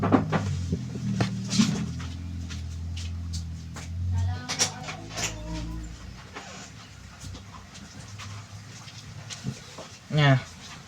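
A door opening and closing in a room during an Islamic grammar lesson, with a few knocks and thuds among the teacher's speech and a louder bump near the end.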